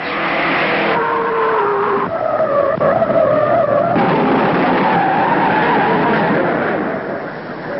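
A race car at the 1955 Indianapolis Speedway skids and spins, with loud sustained tire squeal in shifting pitches over engine noise, heard up close and fading toward the end.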